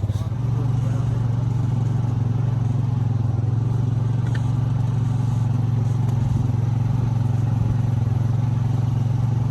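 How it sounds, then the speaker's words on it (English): A four-wheeler ATV hauling a load of deer meat after a hunt idles and putters steadily with a low, even engine hum close by and light clatter over it. "So you got a load on this four-wheeler."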